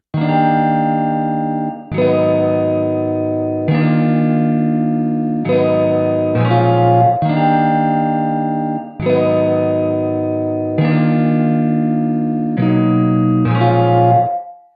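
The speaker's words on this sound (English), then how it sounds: "this is a spatial reverb, and what I mean by spatial, adding space to your track" Sustained chords repeating in a steady rhythm, each note swelling and ringing out with a wide, spacious reverb tail from a Maschine stock spatial reverb plugin. Loud, with no voices.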